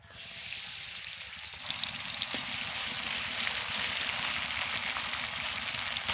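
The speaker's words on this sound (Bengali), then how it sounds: "পেঁয়াজকে আমি ভালো করে ভেজে নেব" Chopped onions frying in hot white oil in a wok, a steady close sizzle that swells slightly louder partway through and holds constant.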